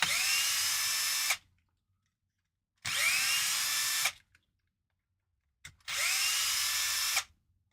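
A small power driver whirs in three separate bursts of about one and a half seconds each, with silent pauses between them, close and loud, while the gearbox of an RC crawler is taken apart.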